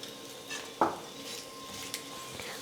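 A ragi roti cooks in oil on a pan while a metal utensil clinks once sharply against the pan, followed by a faint soft sizzle and a light tap near the end.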